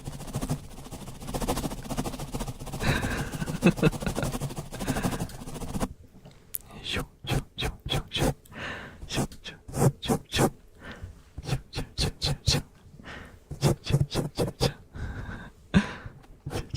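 Close-up ASMR scratching on a microphone during a live stream comes in rapid, rhythmic bursts of crisp scraping, loud and intimate, following a stretch of softer, muffled rustling.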